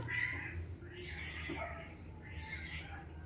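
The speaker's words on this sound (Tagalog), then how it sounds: "Hintik na, pusa na yun, ingay." A cat meows in a rural yard near gardens, giving about three drawn-out, fairly loud cries spaced a second or so apart over a low background hum.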